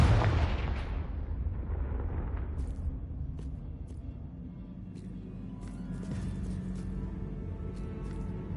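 Confringo blasting spell from the Hogwarts Legacy video game, going off as a loud burst up front that rumbles and fades, followed by scattered smaller crackles and pops over a low background hum.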